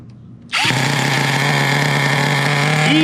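An HPI Savage X 4.6 nitro RC truck engine fires up on its rotor start system, catching abruptly and then running loud and high-pitched with a steady buzzing drone, close by.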